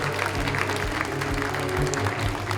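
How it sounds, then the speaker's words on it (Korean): Audience applause greets a chairman coming onstage at a media company's second-anniversary ceremony and concert: a steady wash of clapping over a low, tonal hum. "큰 박수로 무대 위로 모시겠습니다"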